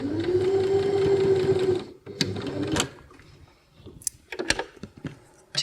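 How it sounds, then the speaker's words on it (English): A sewing machine stitching a hem on a small fabric coffee or tea bag hums steadily for about two seconds, then stops, leaving scattered clicks and handling sounds close by. "a line of stitching along that hem and back over the other side,"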